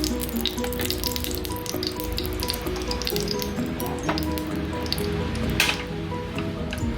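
Ghee poured onto a hot stone griddle for sweet potato kozhukattai sizzles loudly and close up, a steady frying hiss with scattered pops and spits throughout.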